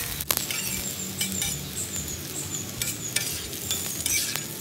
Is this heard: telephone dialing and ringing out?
no